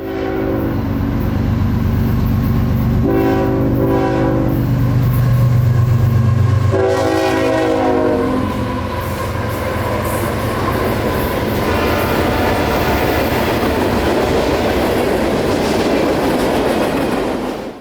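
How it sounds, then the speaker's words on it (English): A southbound mixed freight train passes close and loud, sounding its horn in repeated blasts over a heavy, continuous rumble of wheels and wagons clattering on the rails. "a southbound mixed freight crested the hill in minutes"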